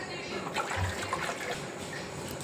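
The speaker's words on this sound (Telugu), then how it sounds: "ఇప్పుడు స్టవ్ మీద ఒక కడాయి పెట్టి ఎసరికి నీళ్ళు పెట్టుకోవాలి" Water is poured into a kadai on a stove for making chegodilu dough, a short steady splash and trickle of liquid filling the pan, close and moderately loud.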